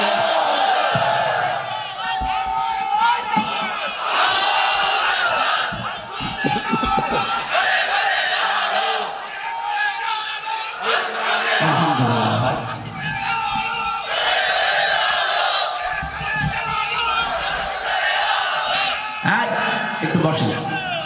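A large crowd at a religious sermon chants the takbir in loud, repeated waves of massed voices, continuous and reverberant throughout.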